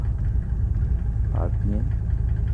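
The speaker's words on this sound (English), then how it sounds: "The engine is running. It will take some time to stable the" Twenty-year-old Mercedes-Benz E-Class diesel engine idling on a winter start, a steady low rumble with a faint rhythmic throb, running close by beneath brief tonal sounds.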